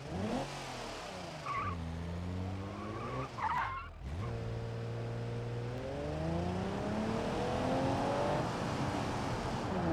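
Car engine in the BeamNG driving game, revving through rising and falling gear sweeps with tire skids and squeals, loud and continuous with a brief dip near the middle.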